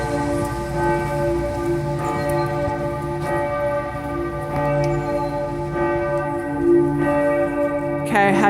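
Church bells in Lüneburg, Germany, ring steadily with layered, sustained tones, a continuous peal with soft background noise and no talking.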